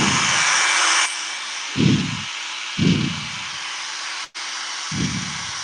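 A cheap £6 hair dryer blows with a steady, loud airy hiss close by, broken by a few low rumbling bursts and one brief dropout, with no talking.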